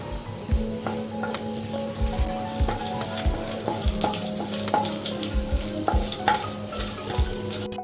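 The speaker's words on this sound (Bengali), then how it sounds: "রাঁধুনিটা একটু ভেজে নিচ্ছি" Radhuni seeds frying in a spoonful of hot white oil in a non-stick pan, a steady close sizzle with repeated scraping knocks of a spatula stirring throughout.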